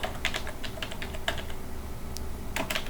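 Keys on a computer keyboard are typed in quick irregular bursts of clicks while entering Python input, close and clear with short pauses between strokes and no talking.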